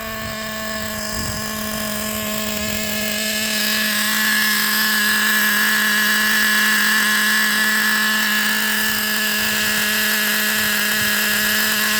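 The nitro engine of a 2008 Traxxas Revo Platinum Edition 3.3 RC truck runs steadily nearby, a loud, continuous high-pitched buzzing whine that swells slightly and then holds at a constant pitch.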